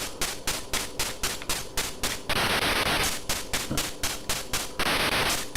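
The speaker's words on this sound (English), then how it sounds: "They're shooting at me." Rapid, evenly spaced gunfire bursts from the ZX Spectrum game Line of Fire, with harsh noisy 8-bit shots repeating in a steady rhythm and two longer hissing blasts breaking the pattern.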